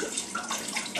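Red wine poured into a pot for a tomato-based seafood stew, heard as a brief, steady liquid splashing stream, close and fairly soft, lasting about a second.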